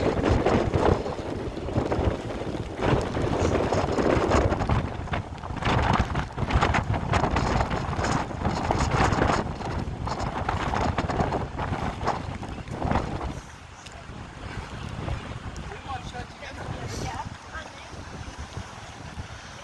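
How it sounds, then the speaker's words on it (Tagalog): Loud wind roars over crashing waves at the Giant's Causeway, with a constant hiss of rain; the rush eases somewhat near the end. "Ang lakas po ng hangin, ng alon, at umuulan."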